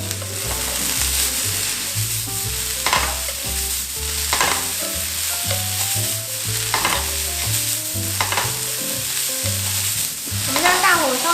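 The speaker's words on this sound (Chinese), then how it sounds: "我们就放入我们的马铃薯丝还有青椒丝下去爆香。 爆香啊！ 大火快炒。" Shredded potato and green pepper are stir-fried fast over high heat for a vegan dish, with loud, close, continuous sizzling and tossing throughout and background music playing underneath.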